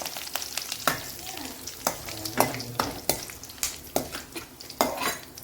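Curry leaves spit and sizzle in hot oil in a pan for gojju avalakki, with steady frying hiss broken by sharp crackling pops and a few stirring clinks from a utensil against the pan.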